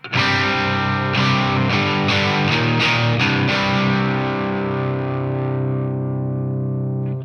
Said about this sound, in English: out of pure excitement for the sound of this delay pedal, play some tones for you